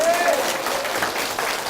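A church congregation applauds in a dense, steady patter of clapping that fills the room, with a voice audible over it and a brief whistle-like tone near the start.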